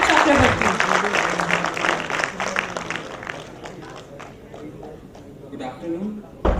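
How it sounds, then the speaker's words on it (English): A conference audience gives a burst of applause, dense clapping near at first that thins and fades over a few seconds while a voice speaks over it. "Please give a huge round of applause to Dr. Abhineshwar Chakravarti."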